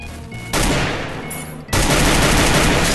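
AR rifle gunfire in the mobile battle game Free Fire, heard as loud, dense bursts of rapid shots that break off briefly and then resume as sustained fire.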